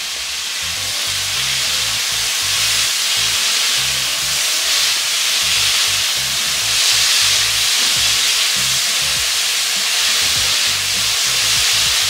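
Vegetables frying in a pan for Mauritian fried rice after soy sauce and a little water are added, giving a strong, continuous sizzle and hiss that rises and falls slightly over several seconds, no voices.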